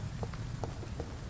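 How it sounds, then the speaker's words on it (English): Steady rain falls in the vampire game Vampyr, a faint, even patter of drops with a few soft taps standing out, heard alone. "That's just rain."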